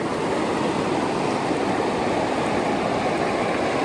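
River water flowing into the sea at Triveni Sangam in Somnath, a dense, steady rush of water and surf, close and continuous with no talking.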